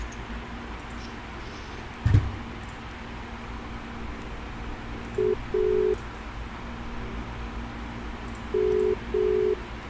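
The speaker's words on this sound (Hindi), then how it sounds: "ठीक है फोन करता हूँ।" Faint touch-tone beeps sound as a phone call is dialed, a few short tones spaced out over a low background hum, with a brief thump early on.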